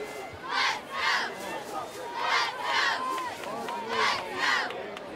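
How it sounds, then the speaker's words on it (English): Packed high school football stadium crowd on opening night, roaring and cheering in repeated swelling waves about every second, loud and dense throughout. "Beautiful looking crowd here as Spooler Stadium is packed on both sides of the field."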